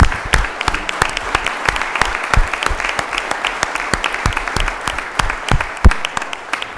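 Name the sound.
audience applause at city council meeting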